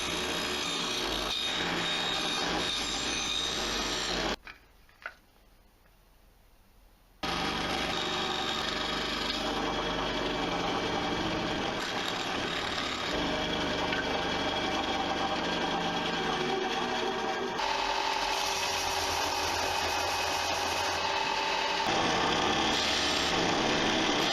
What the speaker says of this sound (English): Then it was separated from the runners, cut down into small strips, and then sanded down.